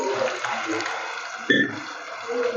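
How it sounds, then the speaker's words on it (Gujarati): About two spoonfuls of water go into a pan of salted tomatoes as they cook, giving a brief, close splash and wet hiss with a small burst partway through. No one speaks. "બે ચમચી જેટલું પાણી નાખીને"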